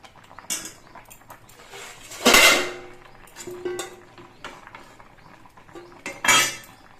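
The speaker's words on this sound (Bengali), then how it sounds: "আবার আমি ঢাকনাটা খুলে নিচ্ছি আর নেড়ে চেড়ে দিয়ে দেখে নিচ্ছি যে সবজিগুলো সেদ্ধ হয়েছে কিনা" Vegetables, including papaya and potato with pumpkin greens, are stirred in a cooking pot after the lid is lifted; there are sporadic close metallic clinks and scrapes, with two louder clattering bursts.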